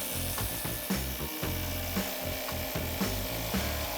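A competitor's subcompact impact driver runs under test, giving a rapid, rhythmic mechanical hammering and ratcheting clatter that stays loud and close throughout, with no talking.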